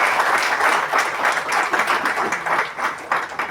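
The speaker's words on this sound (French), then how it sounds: "Je vous prie de les applaudir." A gathering applauds in honor of a couple of parents: lively, uneven clapping from many people, swelling and dipping in loudness, close and filling the room.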